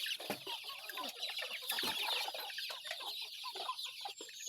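Chickens clucking steadily on a farm, a dense flock of overlapping calls and rooster-like cries close by, with no speech.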